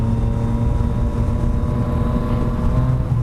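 A Yamaha FZ-09 motorcycle engine drones steadily up close, its exhaust giving a loud, even, buzzing hum with a low rumble throughout.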